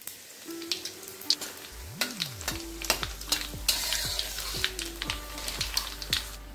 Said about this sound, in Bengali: তার সঙ্গে এখানে আমি দিয়ে দিচ্ছি 1 চামচ কালো জিরে।